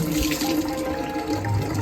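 Tap water runs steadily into a sink while someone washes their face, a continuous close splashing rush with no talking.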